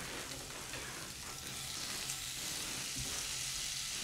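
Bacon and onions cook in a pan over low heat for pasta carbonara, producing a soft, even, continuous sizzle heard close by but fairly quiet, with no voices.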